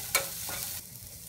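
Onions sizzle softly in an oiled pan while being sautéed for a Tamil plantain stir-fry, with one brief stirring scrape near the start over the steady frying hiss.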